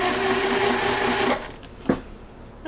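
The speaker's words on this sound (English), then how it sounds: "we're just going to sew our middle pieces together" A sewing machine stitches quilt block pieces together, giving a steady, close mechanical hum that runs for over a second and then stops, followed by a single soft knock and near quiet.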